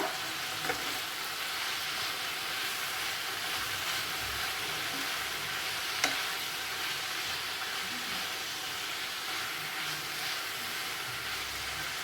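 Cheera aviyal, a Kerala-style spinach and vegetable dish, sizzles steadily in a pan as it is stirred, with a soft continuous frying hiss and a couple of faint scrapes, no voices.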